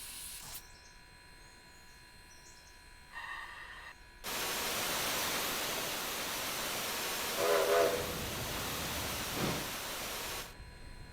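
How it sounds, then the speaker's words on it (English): A locomotive driven in the Railroader video game: a steady, loud broadband rumble of rolling rail noise that kicks in partway through, with a brief tonal swell near the end and no talk. "We can actually drive the train."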